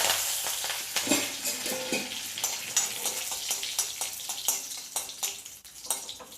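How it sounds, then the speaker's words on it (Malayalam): Dried red chillies and curry leaves hit hot oil with popped mustard seeds for a Kerala-style mango pulissery tempering, giving a close, steady sizzle with crackling bursts and stirring clinks. "കടുക് പൊട്ടിക്കഴിഞ്ഞ് അതിലേക്ക് നമുക്ക് ഈ വറ്റൽമുളക് ഇട്ട് കൊടുക്കാം."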